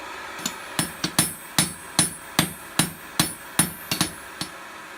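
A cross-peen hammer strikes metal about a dozen times while forging barn door hardware brackets, in a steady, ringing rhythm, each blow sharp and close with a brief metallic decay.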